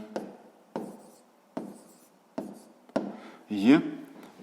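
Pen on paper writing numbers by hand for a fifth-grade maths exercise: several short scratchy strokes spaced about a second apart, close and clear, with a final longer scribble.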